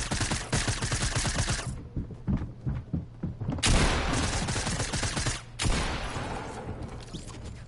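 Dense video game gunfire, a heavy continuous fusillade of rapid shots with thumping impacts that briefly drops off and then resumes, loud and close throughout.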